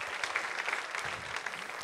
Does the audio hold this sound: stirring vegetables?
no